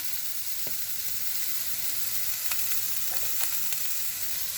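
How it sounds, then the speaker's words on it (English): Vegetables including spring onions sauteing in a hot pan, a steady soft sizzle throughout with a few faint clicks and scrapes of a utensil, no voices. "Brown them or saute them"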